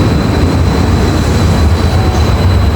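A long train rolls past a station platform as a loud, steady rumble and rattle of wagons that holds for the whole stretch, close by and with no talk over it.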